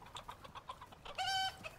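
A chicken in the Icarus survival game clucks in a quick run of short, close notes, then gives one longer, drawn-out squawk before a final cluck.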